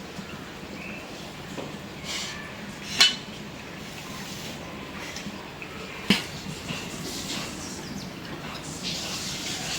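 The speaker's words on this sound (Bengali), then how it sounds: "চড়চড়ি রান্না করার জন্য কড়াইটা বসাই দিই" A metal wok is set down on a stove with a couple of sharp clanks while preparing a small fish curry, against a faint kitchen background.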